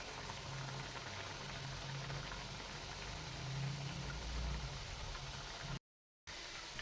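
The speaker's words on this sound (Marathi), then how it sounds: "आणि एकदम मंद आचेवर आपल्याला हे बालुशे तळून घ्यायचेत." Balushahi pastries frying in medium-hot oil over a very low flame, giving a steady, soft bubbling sizzle that runs evenly throughout with a brief dropout near the end.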